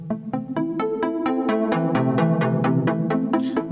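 A synthesizer plays a steady run of plucked notes through a double pulse delay effect, each tone followed closely by a quick repeat, creating a pulsing doubled echo rhythm.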